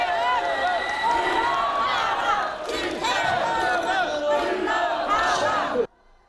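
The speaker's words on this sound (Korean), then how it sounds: "김태흠 충남도지사가 무대 위에 오르자 객석에서는 야유와 항의 섞인 고성이 쏟아집니다." Residents opposed to the Cheongyang Jicheon dam plan boo and shout protests from the seats as South Chungcheong governor Kim Tae-heum takes the stage; a dense, loud, continuous crowd clamor of yelling voices cuts off abruptly near the end.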